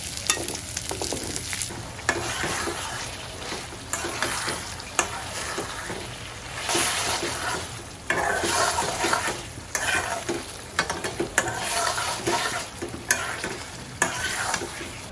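Food frying in a pan with repeated stirring, close crackling sizzle broken by scraping strokes in an uneven rhythm.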